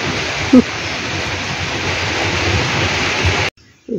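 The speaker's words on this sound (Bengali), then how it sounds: "এই যে মেঘলা, বৃষ্টি পড়ছে।" Steady rain falls on a cloudy day of the Ulto Rath Yatra festival at the Hauz Khas Jagannath Temple in Delhi, a dense, even hiss that carries on unbroken for several seconds before cutting off abruptly.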